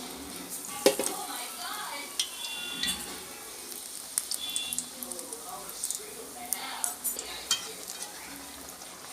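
Raw banana bajji frying in hot oil: a steady, soft bubbling sizzle with scattered crackles and occasional utensil clicks, fairly quiet throughout.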